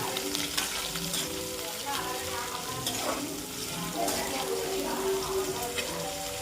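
Sliced onions and curry leaves sautéing in hot oil as the tempering for goat trotters paya, a dense steady sizzle with stirring scrapes, close and continuous without talk.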